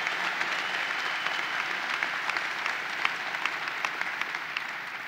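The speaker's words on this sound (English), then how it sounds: "Let's give Van Robinson a great round of applause" Sustained applause from a large audience at the opening of a new expo center at the 2018 Great New York State Fair, a steady dense clatter of many hands with a few sharper claps standing out, no talking.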